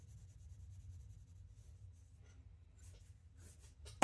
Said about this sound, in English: So just holding on the side of the pencil, nice and light.